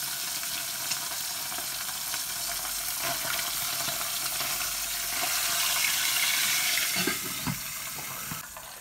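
Sea bass frying in a pan with a steady crackling sizzle, close and fairly loud, a few clinks and shuffles near the end.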